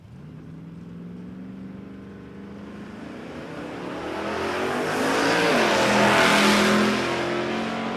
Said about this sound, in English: Obviously, all come out to see the Nitro Funny Cars, and why wouldn't you? So cool, so fast,